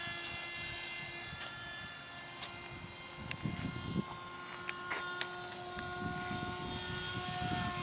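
A small electric propeller motor on a homemade FPV RC plane converted into a boat, a steady high whine with tonal lines that rises and shifts as it accelerates, heard from nearby over a constant low rumble, with no voices.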